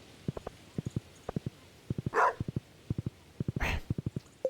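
Short, sharp dog barks from the farming game Stardew Valley come in quick clusters of two and three, fairly loud and close, with a couple of soft whooshing sounds in between.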